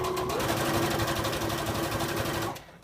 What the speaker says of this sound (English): I'm sewing right on that crease line.